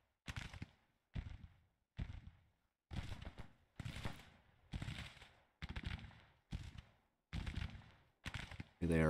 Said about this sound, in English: They are firing on someone.